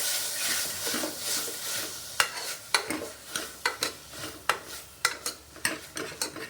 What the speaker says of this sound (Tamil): நல்லா வதக்கணும், எண்ணெயிலே வதக்கணும்.